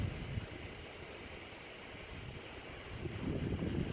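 Strong gusting wind of about 20 miles per hour buffets the microphone outdoors beside a parked vehicle, producing a continuous loud rumble and hiss that swells toward the end, with no talk.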